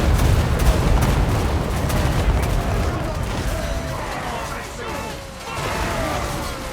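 Warhammer battle gunfire, a dense and loud barrage of shots and explosive crackles with rumbling impacts, continuous throughout, with battle cries and voices heard under it.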